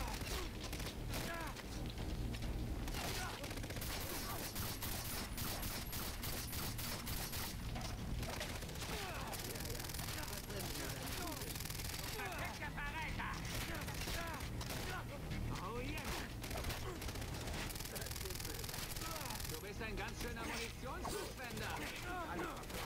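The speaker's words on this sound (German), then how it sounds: "Da schießt noch irgendwer." Gunfire in the Far Cry 3 video game crackles in repeated distant bursts and scattered single shots across a long stretch, with a faint steady background bed behind.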